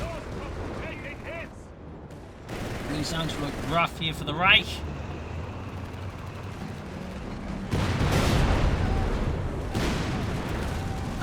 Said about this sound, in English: got the bishops, they're just bombarding the German bases as well there